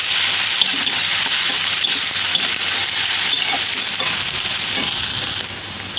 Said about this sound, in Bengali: রসুনটাও ভালো করে ভেজে নেবো যাতে কাঁচা গন্ধটা চলে যায়